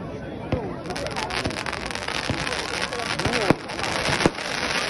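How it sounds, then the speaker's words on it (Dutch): Crossette crackling fireworks cake, the Alpha from Vuurwerk Totaal, bursting in a fast, steady stream of crackles and sharp pops, with several louder bangs standing out, while people talk over it. "De volgende cake is een prachtige croissette crackling cake."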